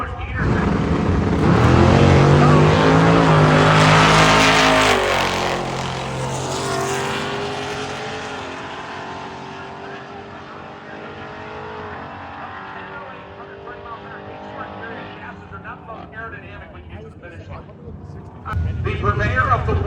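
A yellow Mustang Cobra and a twin-turbo Ranger at a drag racing event, engines roaring loudly up close and then fading as the cars pull away, while an announcer talks throughout.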